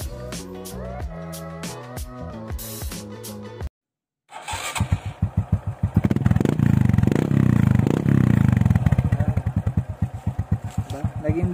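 After a motorcycle has a new exhaust fitted, its engine is checked for sound. A loud run of rhythmic pops and clatter is followed by a brief silence, then repeated close revving with a deep, full exhaust note, and a voice speaks over it.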